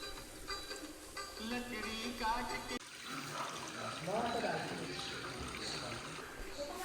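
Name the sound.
temple water flowing into a stone tank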